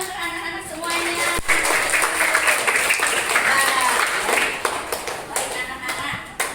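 A classroom of children and teachers claps in a lively, crisp rhythm after a lesson on positive class rules, with a teacher's voice and chatter heard over the hands.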